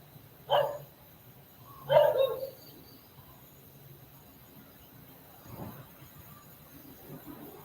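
A dog barks twice in quick succession at moderate distance, sharp single woofs, followed by a fainter third bark, over a quiet outdoor background of insects.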